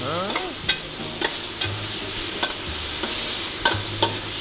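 Pork stir-fries in a hot pan with fish sauce and soy sauce, a constant loud sizzle broken by regular clacking strokes of the spatula, with no talking.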